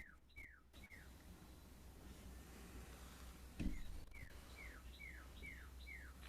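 Faint outdoor birdsong: a series of short, bright chirps repeats at a steady pace, sounding distant over quiet background hum, with one soft bump partway through.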